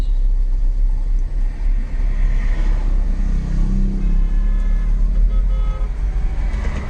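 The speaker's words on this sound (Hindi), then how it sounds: "और ये देखो हमारी गाड़ी चल रही है।" A manual car pulling away slowly during a driving lesson, its engine giving a steady low rumble from inside the cabin with road noise throughout and no talking.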